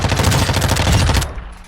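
Rapid automatic fire from an MP5 submachine gun in Call of Duty DMZ, a dense, loud burst of closely spaced shots lasting about a second before cutting off into a brief fading tail.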